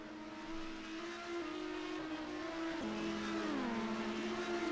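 Race cars in a sim-racing event at Sebring whine past with droning engine tones, pitch shifting through gear changes as one car overtakes another, moderately loud and with no voices.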